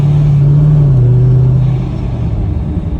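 A supercharged 2016 Chevrolet Camaro 2SS convertible with a slipping transmission hums loudly inside the cabin, its engine tone holding steady, then dropping as it shifts gear, leaving a lower rumble.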